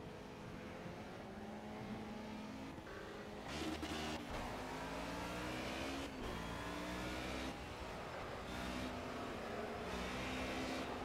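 A race car engine in the Project Cars racing game on cold tyres, a steady droning engine note that shifts pitch with revving and gear changes, continuous and fairly quiet throughout.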